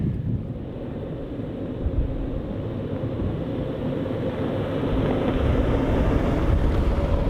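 Strong wind gusting across an open desert area, a steady loud roar with low rumbling buffeting against the microphone that builds slightly toward the end, with no voices.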